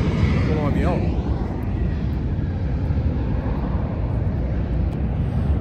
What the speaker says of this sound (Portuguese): a gente vai decolar a máquina para fazer o teste de voo